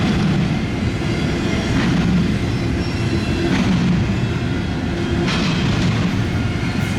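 A huge CSX intermodal freight train, led by three locomotives, rolls past at Deshler with a loud continuous rumble and rattling wagon clatter, no voices.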